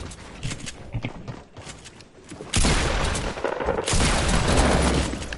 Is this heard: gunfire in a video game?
yes